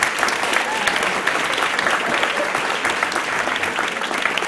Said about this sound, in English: Could I please just offer a round of applause for our splendid adjudicator?